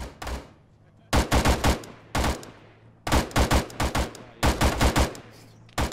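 Several bursts of gunfire from an Arma-style ShackTac military game, loud and close: a single shot, then rapid volleys of three to five rounds separated by short pauses.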